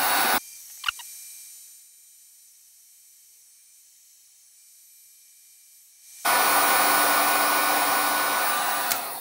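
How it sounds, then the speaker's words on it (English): A hairdryer blows hot air during a chemical woodburning test, with a loud steady whoosh that drops to a muffled low hum while the airflow is nearly blocked, then roars back up to full strength. "Here you see what you do to your hair if you put the hairdryer too close to it."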